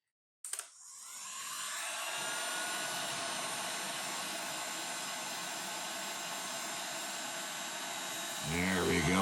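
A heat gun blows hot air onto a stuck blob of PLA plastic on an Ender 3 Pro 3D printer, a steady, close, loud broadband rush that starts abruptly and holds without pause.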